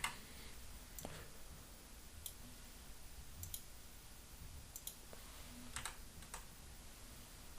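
Faint, sparse key clicks from a computer keyboard, a few isolated taps spaced apart against a quiet background hiss.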